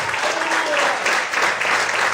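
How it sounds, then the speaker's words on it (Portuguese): Church congregation applauding steadily for about two seconds, a dense wash of many hands clapping at a moderate distance with a faint voice beneath. "Você pode aplaudir e exaltar o Senhor por isso."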